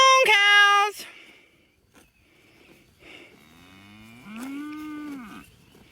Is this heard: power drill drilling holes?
no